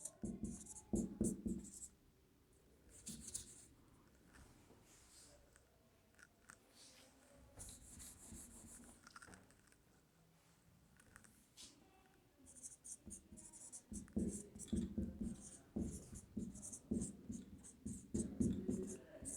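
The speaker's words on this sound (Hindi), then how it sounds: "इसको यहाँ पे लिखेंगे" Chalk or marker writing on a board in a political science lecture: bursts of scratchy, squeaky strokes come in irregular clusters, loudest at the start and the end, with quieter stretches between and faint room noise.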